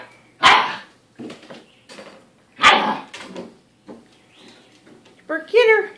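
Puppies from a litter barking and yipping in short bursts while playing together, with people talking and calling out over them.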